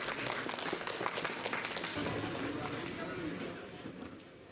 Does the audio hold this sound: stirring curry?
no